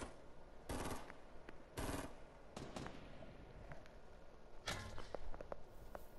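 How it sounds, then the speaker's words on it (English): Bursts of gunfire in Fortnite Battle Royale, several loud automatic volleys and scattered single shots, with grenade-like thumps and quieter footsteps in between; someone talks over the action. "Yeah, he's firing at him."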